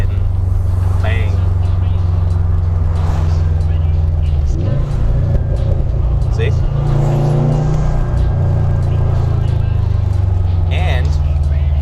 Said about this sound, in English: Let's see if we can hear the car pop and bang.